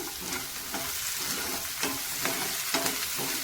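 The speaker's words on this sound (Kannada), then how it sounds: "ಇದು ಎಣ್ಣೆಯಲ್ಲಿ ಈಗ ತುಂಬ ಚೆನ್ನಾಗಿ ಫ್ರೈ ಆಗಬೇಕು" Chopped tomato fries in hot oil for a pulao, a steady close sizzle with soft stirring scrapes recurring every half second or so; no voices.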